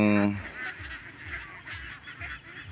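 A flock of domestic ducks honking and quacking at feeding time, with loud, close calls repeating in a steady rhythm.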